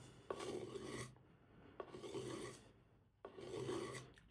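A knife blade drawn heel to tip along a ceramic sharpening rod, blade leading, giving three separate rasping strokes, each about a second long with short pauses between, close and clear with no talk.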